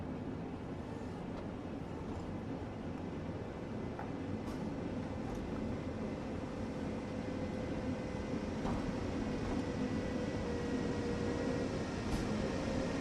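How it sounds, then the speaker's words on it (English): A DB class 80103 train arrives in the Train Sim World game on the Ruhr-Sieg Nord line near Hagen, producing a steady, dense rumble of rolling wheels and running gear with a few faint clicks. "Here comes the train."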